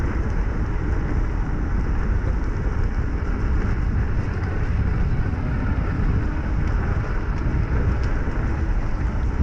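Steady, dense rain noise fills the whole stretch, a constant loud hiss and rumble with no pauses and no talking.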